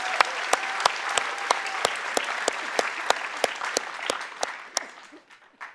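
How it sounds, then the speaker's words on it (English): A church congregation claps together, a full round of applause with a few sharp individual claps standing out, fairly close and steady before tapering off into quiet at the end. "Can you guys give them a round of applause?"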